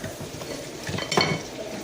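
Brown sugar and butter cooking together in a pan, giving a soft, steady sizzle with light stirring and utensil scrapes against the pan, and one brief louder clink near the middle.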